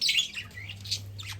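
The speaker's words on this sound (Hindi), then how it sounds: "बाकी ये मेरी चिड़िया हैं, बजीज हैं।" Pet budgerigars squawk and chirp indoors in quick, scratchy bursts, fairly close, over a steady low hum and with no talking.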